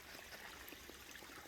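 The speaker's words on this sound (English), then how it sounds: "Here's a little creek just before you get to Lance" A small creek trickling beside a hiking trail on the Appalachian Trail, a soft steady wash of running water heard alone, faint and continuous.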